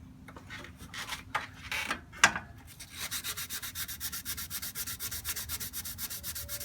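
Rust spots are sanded off a 1995 Jeep Wrangler radiator part, starting with a few scattered scrapes and then settling into a fast, even back-and-forth rasping rhythm, close and fairly loud.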